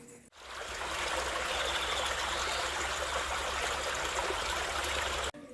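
A small stream of water flows steadily and close by, with a continuous even rushing and trickling that holds constant for several seconds.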